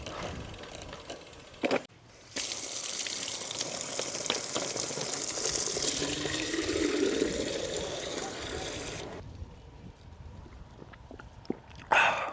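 Water gushes steadily from a roadside spring in the village of Krasno in the Goriška Brda hills, a continuous rushing hiss lasting several seconds between short clicks and knocks.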